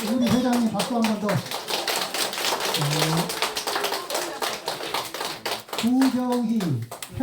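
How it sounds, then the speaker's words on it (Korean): Audience applause at a Buddhist three-refuges and five-precepts ceremony in a temple: crisp, scattered hand claps rattle steadily while voices speak over them. "자, 한번 우리 회장님 박수 한 번 더."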